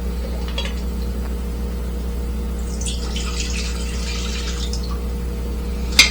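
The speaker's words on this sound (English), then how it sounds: "I'm going to pour the vegetable broth now" Vegetable broth poured into a hot pan with olive oil, a soft splashing pour building in the middle of the clip over a constant low appliance hum, ending with a brief sharp clink.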